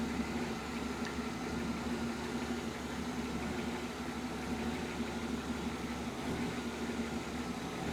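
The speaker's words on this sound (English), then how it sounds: "That sounds like she's kind of surgy." A 1967 Mustang engine fitted with Holley Sniper fuel injection idles steadily with a low, even rumble, sounding a little surgy, close by with no talking.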